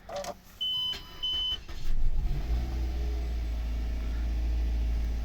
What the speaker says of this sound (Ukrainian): Безключовий доступ заводимо.